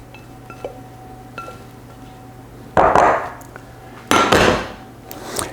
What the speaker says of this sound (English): Now we're going to add in our onion mixture.